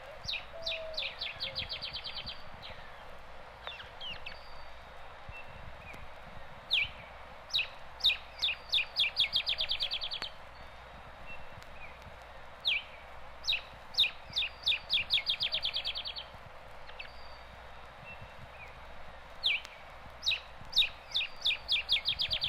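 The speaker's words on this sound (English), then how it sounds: "The dry rattle of the olive sparrow is heard in brushy woods." Repeated dry, rapid chattering rattles of an olive sparrow in brushy woods, short clicking trills coming in bursts every few seconds, moderately near, over faint background hiss and other distant bird chirps.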